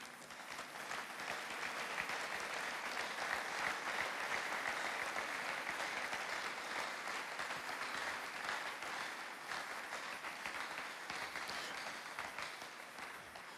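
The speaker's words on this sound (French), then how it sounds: "Nous allons aussi acclamer Dieu pour vous." A church congregation applauds and acclaims God, steady loud clapping and cheering sustained throughout without a break, filling the hall evenly from start to finish.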